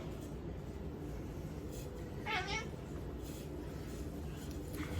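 A cat gives a single short, faint meow midway through, over a steady low rumbling background with no talk.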